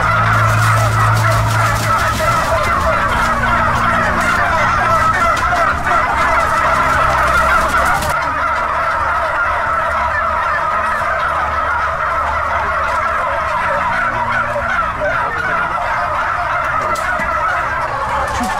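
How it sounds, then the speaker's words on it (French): Turkeys packed tightly in a French poultry farm shed gobble in a loud, dense, continuous chorus, many birds calling over one another close by with no pause. "le deuxième élevage, qui est un élevage de dindes. Vous allez voir comment elles sont entassées"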